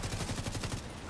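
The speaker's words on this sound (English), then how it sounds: "I'm shooting at him right now." Rapid video game gunfire in bursts aimed at a purple mini tank, a fast rhythmic rattle of loud shots close by.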